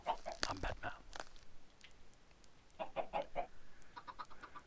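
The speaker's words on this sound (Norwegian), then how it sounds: "jeg har masse kyllinger oppe i et litt sånn rom her" Chickens cluck in short bursts inside a room in a video game, soft and fairly close, with quiet gaps between the clucking clusters.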